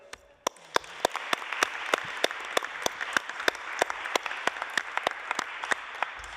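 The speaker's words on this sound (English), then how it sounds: "And with that note of thanks, and please an applause for Elliot." An audience at a legal symposium on the judiciary and the environment applauds, with crisp evenly spaced claps standing out over a steady wash of clapping from the crowd.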